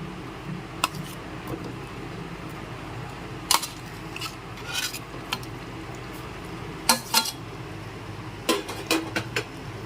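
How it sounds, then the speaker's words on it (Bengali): A spoon stirs paneer into a rich shahi paneer gravy in a pan, giving scattered metallic clinks and scrapes over a low steady background. "এবার মিশিয়ে দেব পনির"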